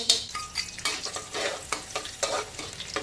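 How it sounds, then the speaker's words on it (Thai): Garlic frying in hot oil in a wok for stir-fried pork liver, with a steady crackling sizzle broken by repeated scraping stirs of a spatula, close and fairly loud, no talking. "น้ำมันร้อนเราก็ใส่กระเทียม"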